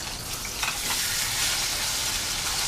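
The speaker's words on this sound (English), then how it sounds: "Fry this up about 2 minutes each side so it's nice and flaky white" Rainbow trout fillets fry in a hot pan with a steady, close, dense sizzle that holds evenly throughout, with no voices.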